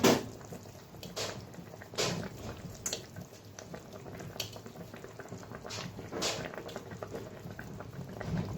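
Foli fish curry broth with potatoes bubbles and simmers in a pan as a steady, close, soft boiling patter, with a few faint clinks and taps from the kitchen.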